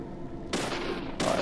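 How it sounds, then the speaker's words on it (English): BB gun fired in the video game Deadly Premonition, two sharp bursts of noisy gunfire close together, each shot cut off abruptly. "Stupid BB gun."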